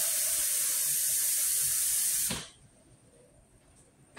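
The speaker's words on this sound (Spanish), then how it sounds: "Yo voy a agarrar en este momento el agua y se la vamos a poner a nuestra masa." Water poured from a cup onto masa dough for Salvadoran peperechas, a steady splashing hiss for about two seconds that stops abruptly, leaving quiet room sound.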